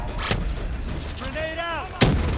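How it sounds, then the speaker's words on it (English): A grenade blast in Call of Duty: Black Ops III, a sharp heavy boom near the start and another punchy explosion near the end, with a shouted voice in between over a rumbling battle backdrop. "Incoming grenade!"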